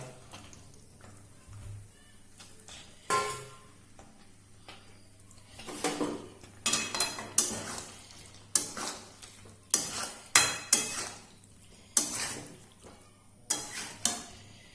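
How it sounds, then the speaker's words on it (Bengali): Fried capsicum goes into a biryani pot and gets stirred, producing repeated scraping clatters of a spoon against the pot over a quiet background sizzle. "এবার আমি এতে অ্যাড করব এই ভেজে রাখা ক্যাপসিকামটা"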